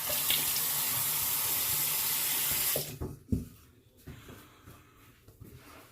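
A bathroom tap runs strongly as someone rinses off after a wet shave, a steady loud gush that cuts off partway, followed by drips, splashes and light knocks around the sink.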